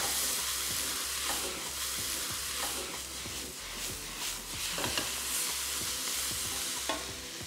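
Bean sprouts and a little heat being stirred quickly in a hot wok in a Chinese takeaway-style kitchen, with a steady loud sizzle and repeated scraping strokes of the utensil against the metal, no voices.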